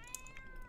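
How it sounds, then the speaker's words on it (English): A cat in The Sims video game lets out a short, faint meow over soft background game sound, with no talk over it. "can you come hang out with this cat? Because I don't want her to be sad."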